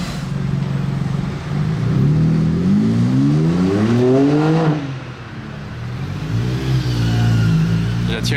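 A modified supercar accelerating hard in first gear at a car gathering. The engine note climbs loudly for a few seconds and drops off, then a lower engine drone returns.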